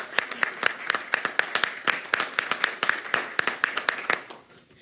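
Clapping from a small audience in a city hall setting, a steady run of sharp, distinct hand claps at fairly close range that thins and fades out near the end.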